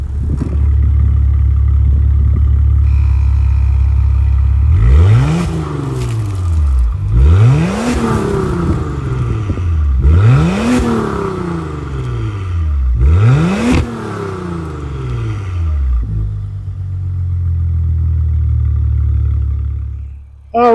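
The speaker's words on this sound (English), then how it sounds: "since we got the functional dual exhaust and we got a Maserati in front of us, let's hear how this baby sounds" A 2024 Maserati Levante GT with twin-turbo V6 and functional dual exhaust idles, then blips through four strong revs in a row, each rising and falling sharply, before settling back to a deep idle, close and loud with no talking.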